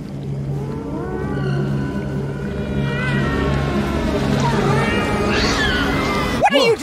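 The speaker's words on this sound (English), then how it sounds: "Sounds like it might be a cat." A cat in the horror video game Alone In The Dark gives long, wavering, drawn-out yowls over a droning low hum, rising and bending in pitch, followed by a short sharp burst at the end.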